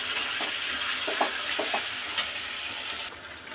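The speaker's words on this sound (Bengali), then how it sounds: "মশলাটা আলুর সাথে কষানো হয়ে এসছে, আলুটাখানি কষিয়ে নেবো" Potatoes and spices sizzle in a pan as they are sautéed, with steady frying crackle and a few soft stirring scrapes, close and continuous, no talking.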